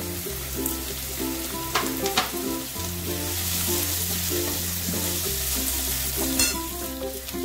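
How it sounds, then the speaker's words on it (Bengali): Chopped onion and green chillies fry and sizzle in a pan for a fish curry, with a steady hiss under a low background hum and occasional clinks and scrapes of stirring. "পেঁয়াজটা ভাজতে ভাজতে আমি কাঁচা লঙ্কাটাকেও দিয়ে দেবো।"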